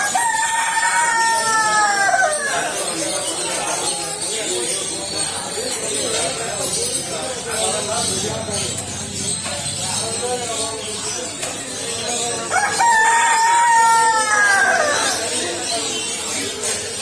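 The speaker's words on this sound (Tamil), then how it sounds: "பெரிய சைஸ் கின்னி கோழி." Large guinea fowl calling at a busy bird and pet market in Ukkadam, Coimbatore, with harsh repeated cries at the start and again near the end over steady crowd chatter and background market noise.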